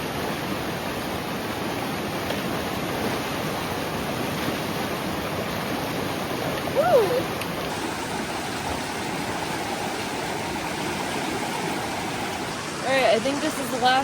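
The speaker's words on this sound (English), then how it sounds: "Big river crossing done!" A strong river rushes during a backcountry river crossing on the Pacific Crest Trail, a loud, steady broadband roar of flowing water throughout, with brief splashing and faint voices near the end.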